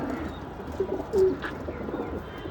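Pigeons in a loft give a low, soft coo that swells once near the middle, under a murmur of background noise and faint shuffling.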